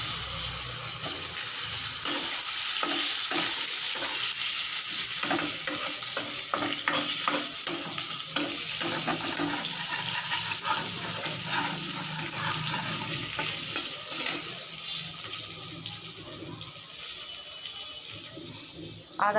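Tomatoes sizzle in a pan with whole cumin while being stirred for a tangra fish curry with cauliflower and potato, a steady, close frying hiss broken by scraping stir strokes.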